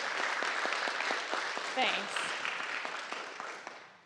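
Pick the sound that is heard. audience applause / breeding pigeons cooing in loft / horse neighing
audience applause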